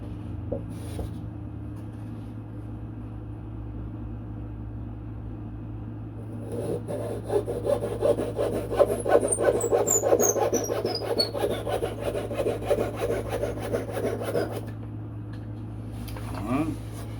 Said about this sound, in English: I need to get me some Zona blades. Zona saw.